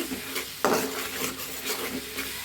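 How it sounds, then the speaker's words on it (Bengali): Dried fish cooked down with spices in a pan for a mixed vegetable curry, with a steady sizzle, scraping utensil strokes and one sharper clink against the pan. "আমি এখান দিয়ে শুটকিটা মশলার সাথে ভালো করে কষিয়ে নিলাম"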